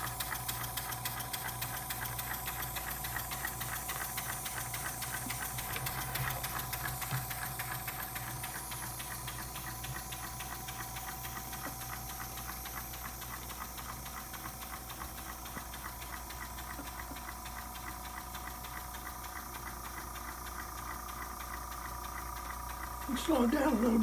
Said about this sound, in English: A stationary beam engine.